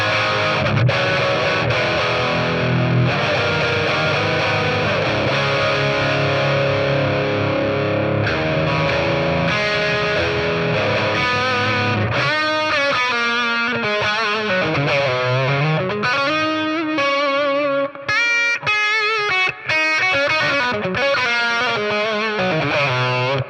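A BOSS Katana MK2 amp on its lead voice, with reverb and delay added, carries a distorted electric guitar playing sustained notes and then expressive bends and melodic runs. It is loud and continuous, with no talking.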